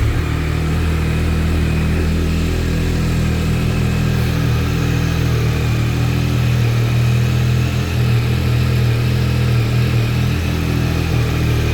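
A 2024 Yamaha MT-09 SP motorcycle with stock exhaust runs loud and close, its engine rumbling and revving steadily with no pauses and no talking.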